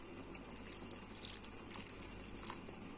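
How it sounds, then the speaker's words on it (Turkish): Cold tap water runs into a container while a thick paste is being mixed in a home kitchen, a soft steady trickle with faint splashy spikes and low background hum, no talking. "Az da su ekleyeyim."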